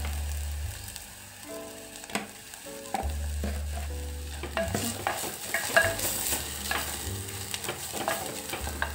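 Turmeric dropped into hot oil for a green moong curry tempering, giving a continuous close sizzle and frying hiss with intermittent stirring scrapes and utensil clinks, no voices.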